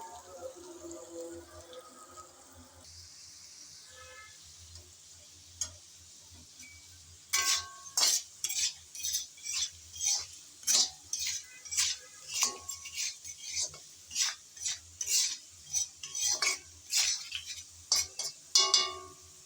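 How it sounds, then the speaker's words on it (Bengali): Potatoes fried with spices in a pan for an okra dish; faint at first, then a run of repeated scraping and clattering stirring strokes in an uneven rhythm, close by and fairly loud, with no speech. "সব মশলা দেওয়ার পর নেড়ে চেড়ে ভালোভাবে আলুটাকে ভেজে নেব।"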